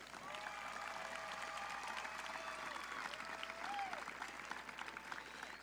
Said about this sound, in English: Please give one more round of applause for our CSF Life members.